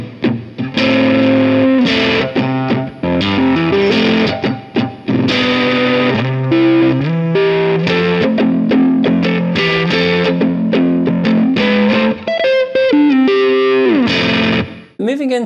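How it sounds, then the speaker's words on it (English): Electric guitar played through a Distortion Plus overdrive patch to emulate a guitarist's tone: a steady, loud run of overdriven melodic notes and chords with a busy, effected texture, ending on a brief fade. "I just put the distortion plus to get as close as possible to that sound"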